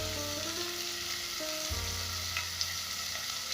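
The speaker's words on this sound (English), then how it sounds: "Now that this is nice and translucent, I'll go in with my tomatoes." Tomatoes hit translucent frying onions in a pan for a bean stew, producing a steady close sizzle and crackle with some stirring and no talking.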